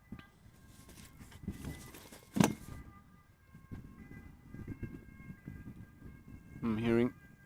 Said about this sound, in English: I'm hearing sirens of an ambulance, emergency services.